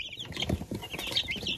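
Liven calico chicks peep and cheep in a brooder, a steady run of high, faint chirps with soft low shuffling beneath.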